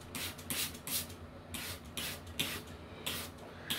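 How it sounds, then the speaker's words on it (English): A pump spray bottle mists a pest treatment solution onto a dainty Hoya houseplant, with repeated short hissing bursts about every half second, close and moderately loud, and no talking. "I'm going to have to do what I'm doing now, which is spray it."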